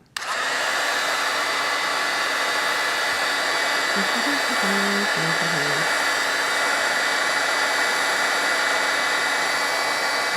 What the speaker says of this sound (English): I've yet to use my heat tool today, so I'm going to let this heat up a little bit.